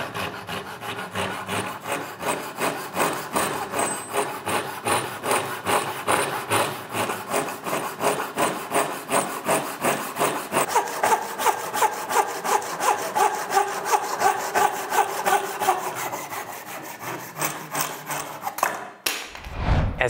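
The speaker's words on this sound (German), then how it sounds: "Wenn wir jetzt hier so einen Winkel sägen wollen, spannen wir uns das Stück einfach so ein, dass unser Schnitt relativ gerade ist." A hand saw cuts an angled line through wood clamped at a workbench, a close, rhythmic rasp of about forty even push-pull strokes, ending in a short clatter as the cut finishes.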